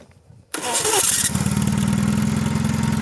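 A mini tractor engine starting: a brief quiet stretch, then an abrupt crank and catch into a loud, steady, rapidly pulsing idle close by.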